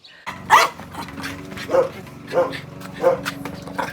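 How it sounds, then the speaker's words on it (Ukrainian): Mixed-breed village dogs in the Kyiv region bark repeatedly in a steady series of sharp barks, fairly close, with a person talking over them. "оце я бачив собак. Що це за собаки?"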